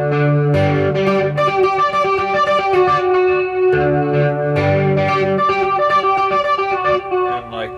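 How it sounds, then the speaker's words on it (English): Electric guitar played by The Edge through an echo effect, ringing chiming notes with repeating delays, steady and loud throughout with no talk. "With the echo."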